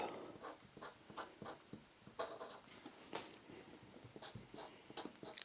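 Pencil or pen writing on a sewing pattern draft for casual workout shorts. Faint, close scratchy strokes come in short bursts and taps, with no voice heard.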